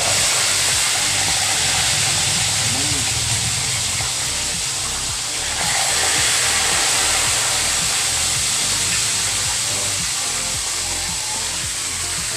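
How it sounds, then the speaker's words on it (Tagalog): Tilapia frying in hot oil over a strong flame, giving a loud, steady sizzling hiss that runs unbroken and close throughout. "Na prito na po natin yung tilapia."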